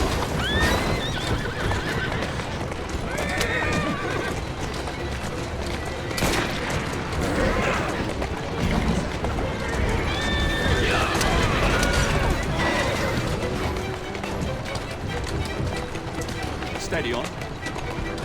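A horse whinnies repeatedly over the steady clip-clop of galloping hooves, with crashes and voices mixed through a busy soundscape in the video game Assassin's Creed Syndicate.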